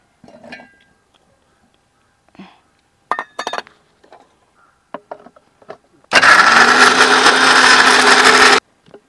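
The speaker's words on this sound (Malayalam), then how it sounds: "ഇനി നമുക്ക് ഈ ജാറിലേക്ക് ഇട്ടൊന്ന് അരച്ചെടുക്കാം" Grated coconut ground in a mixer grinder jar: after a few soft clinks and handling knocks, the motor roars loudly and steadily for about two and a half seconds, then stops abruptly.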